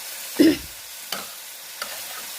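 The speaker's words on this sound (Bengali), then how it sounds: "আগে আমি ইলিশ শুটকি ভেজে নিচ্ছি, ভেজে নেওয়া হচ্ছে।" Dried hilsa fish frying in a pan gives a faint sizzle, with one soft stirring scrape near the start and two lighter clicks of a utensil later on.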